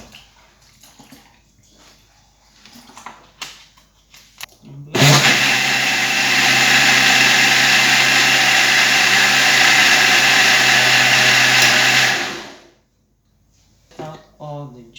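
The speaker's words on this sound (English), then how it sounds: "after the first time of sieving it, I'll take it back into the blender" Blender whirring at steady high speed as it blends tiger nuts with water, loud and continuous for about seven seconds, with quieter talk before it starts and after it stops.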